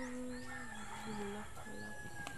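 Chickens cluck and call faintly in the background under steady rural outdoor ambience in Agdangan, Quezon, Philippines, with brief overlapping bird calls.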